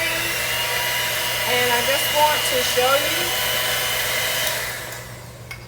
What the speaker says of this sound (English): I decided to pull out my hand mixer and use my whisk on there to finish the whipping cream.